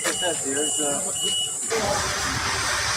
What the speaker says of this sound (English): that beep's loud